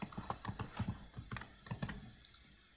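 A password is typed on a computer keyboard: a quick, uneven run of close, quiet key clicks that taper off near the end, with no one speaking.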